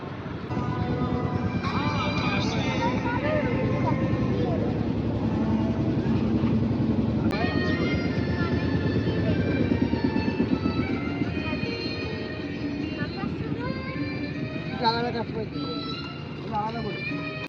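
A boat engine drones steadily throughout a river crossing to Mayapur, a continuous low rumble with a person talking over it.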